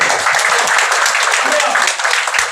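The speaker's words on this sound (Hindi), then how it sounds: "जोरदार तालियों से राहुल का स्वागत करें" An audience at a Bhiwandi Congress Minority Cell membership event breaks into loud, dense, sustained applause to welcome Rahul, with a voice talking over the clapping.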